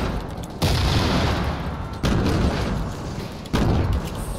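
Three heavy grenade blasts in a video game land about 1.5 seconds apart, each a sudden loud boom that rolls into a long rumbling decay, with no talk over them.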